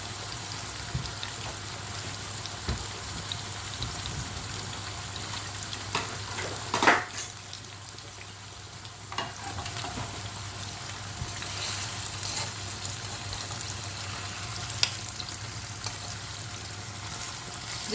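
Fish fillet frying in a pan over a high flame, a steady close sizzle running throughout with brief louder crackles and a couple of clinks from turning or lifting.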